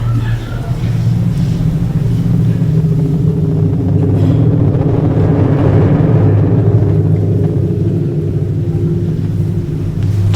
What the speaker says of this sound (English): If you listen carefully, you'll hear thunder.